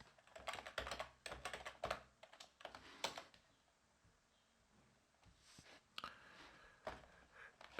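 Quick bursts of typing on a computer keyboard, a run of close crisp keystrokes at the start, a quieter pause, then a few more scattered clicks.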